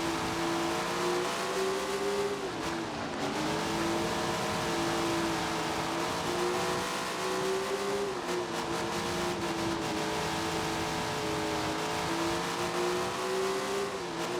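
Sprint cars race in the video game Tony Stewart's Sprint Car Racing, a loud continuous high-revving engine whine that dips and rises as the throttle is lifted for braking and then reapplied, with no voices.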